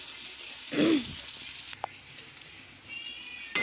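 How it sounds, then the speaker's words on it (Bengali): Garlic and onions sizzling in a hot pan, a soft steady frying hiss broken by a few brief stirring clinks and scrapes, close and alone without talk. "এগুলো ভালো করে ভেজে নিচ্ছি"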